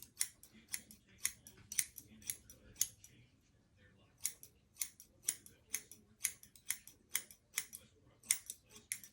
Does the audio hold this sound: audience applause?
no